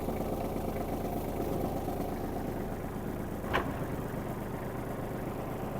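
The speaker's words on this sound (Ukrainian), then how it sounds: "Зараз ми увімкнемо ґрунтофрезу." A Kubota GL-29 Japanese mini tractor runs with its rotary tiller engaged. Its engine gives a steady, moderately loud mid-low rumble, and a brief sharp click cuts in partway through.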